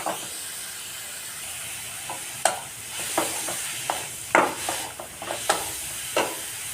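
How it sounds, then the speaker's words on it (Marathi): Grated carrot sizzling in hot ghee for carrot halwa, a steady frying hiss broken by repeated sharp scrapes and taps of a spoon stirring the pan, close up with no talk. "आता त्यामध्ये मी हे किसलेले गाजर ॲड करणार आहे आपल्याला गाजर मस्त असे परतून घ्यायचे आहेत"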